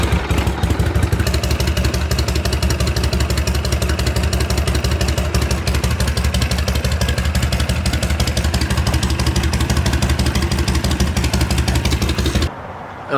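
A warm 1972 Harley-Davidson FLH Shovelhead motorcycle engine runs steadily up close, a loud continuous rumble with a lumpy idle throughout, cutting off abruptly near the end.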